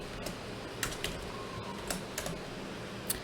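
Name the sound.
typing on a computer keyboard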